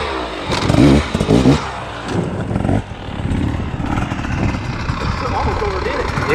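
A dirt bike's engine, with the rider slipping the clutch to crawl over an obstacle during hard enduro training, rumbles and surges unevenly under someone talking throughout.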